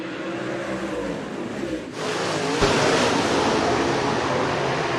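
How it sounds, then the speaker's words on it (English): Late model race cars roar off at the green flag in a heat race at Rapid Speedway, a dirt oval: a broad engine drone that swells suddenly into a loud, sustained pack roar. "Green's out, we're racing."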